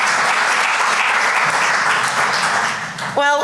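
Sustained audience applause fills a hall at the London Games Festival opening summit, steady and dense for about three seconds before a voice begins speaking at the end.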